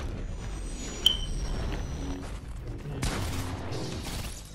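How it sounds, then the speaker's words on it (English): Gunfire from above in Fortnite: one sharp crack rings out early, then a rough burst of shots and clatter follows later over the game's background sounds. "Oh, they shoot from above."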